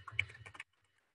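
A computer keyboard is typed on in a quick burst of about eight crisp keystrokes, close and distinct, followed by silence.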